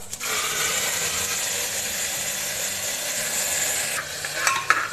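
Chopped tomatoes are stirred into a sizzling tempering of curry leaves and dried red chillies for sambar, with a steady hiss of frying oil, a utensil scraping the pan and a few sharp clinks at the end.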